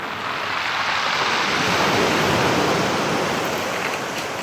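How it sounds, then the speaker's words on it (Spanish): Ocean waves wash over a stony shore at Puerto Vallarta, Jalisco, a steady loud broadband rush with a faint gravelly hiss of stones being dragged, with no voices over it. "Cuando las olas avientan, jalan las piedras de abajo y suena ese sonidito."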